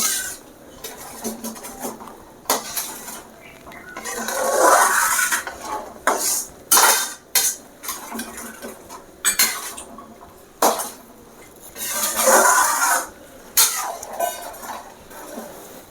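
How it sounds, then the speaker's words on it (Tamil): A spoon scrapes and clanks against a pan as ghee is stirred into rava kesari, irregular bursts of metallic scraping and taps separated by short pauses, close up and moderately loud. "நெய் நல்லா அப்படியே கலந்து விட வேண்டியதான்"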